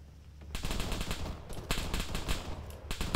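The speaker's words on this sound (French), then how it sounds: "C'est une grosse mitrailleuse, je pense." Heavy machine gun fire in Arma 3 bursts in after a brief lull, a steady rhythm of loud, rapid shots that keeps going, with no talking.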